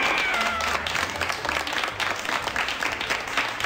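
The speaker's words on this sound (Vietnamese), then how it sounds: "bên kia đầu dây có rất nhiều tiếng reo hò" Cheering and clapping from a small group come through a phone line during a televised quiz call, a dense, loud, unbroken wash of noise with no voices standing out.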